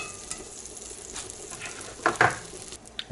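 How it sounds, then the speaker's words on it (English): Butter melting in a pan over low heat gives off a soft, steady sizzle, with a few brief louder crackles and pops near the end. "we're going to put a couple of good tablespoons of butter in the pan and get that melted"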